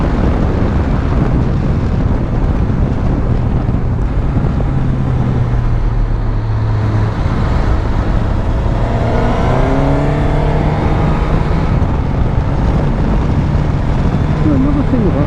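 Suzuki GSX-S1000GT motorcycle engine under way, a loud, steady drone over heavy wind rush, with rising revs through the gears and talking over it.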